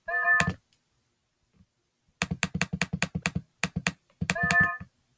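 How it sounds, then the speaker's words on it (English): Computer mouse clicks from someone playing a point-and-click game, a quick run of sharp taps in irregular bursts, with a louder thump at the start and end, close and clear. "Oh, wait, I'm not clicking the right place."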